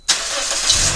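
A Toyota car engine, 2006-2011 model, cranks via remote start and catches abruptly after a moment of silence, then settles into a steady idle close by.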